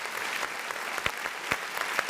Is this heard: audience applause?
yes